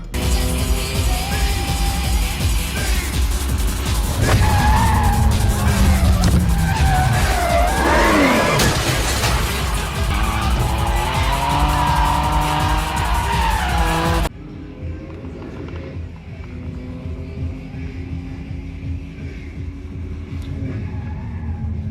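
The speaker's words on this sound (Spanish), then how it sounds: "Esto es la primera carrera que él hace en el Mona Lisa, en el S15, contra el 350Z del DK, el Drift King, así, en el parqueo." A Nissan S15 drifts against a 350Z through a parking garage in a Tokyo Drift race scene, with engines revving and rising, wailing tire squeal over a loud continuous roar, then a quieter rumbling stretch after a sudden cut.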